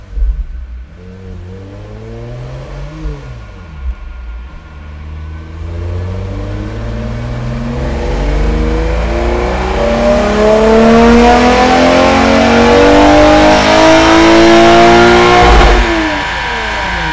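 A Toyota 2GR-FE V6 fitted with a benchmark intake manifold revs on a dyno, its note sweeping up steadily in pitch and loudness to a sustained high-rpm howl before cutting off near the end.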